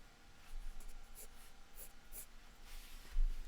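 A pencil scratches across paper while drawing an animal, soft close strokes in irregular short bursts over quiet room tone.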